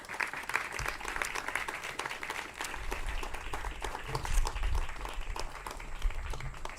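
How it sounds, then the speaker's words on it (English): A crowd at an outdoor civic gathering celebrating a river cleanup in Ashtabula, attended by Governor Mike DeWine, gives a moderate, fairly distant round of applause: continuous soft clapping with some low rumble underneath. "So I think they deserve applause and appreciation from us."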